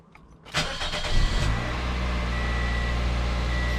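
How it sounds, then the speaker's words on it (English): A 2005 Toyota Corolla engine cranks briefly and catches, then settles into a steady, close idle hum that continues to the end. "So now we're going to start up the engine."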